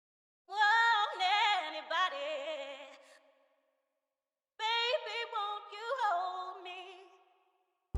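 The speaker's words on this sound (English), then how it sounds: "So I basically looked up like gospel choir type vocals for real," Gospel choir vocals used as a soul sample: two swelling sung phrases of blended voices, rich and sustained, each fading out, separated by a silent gap.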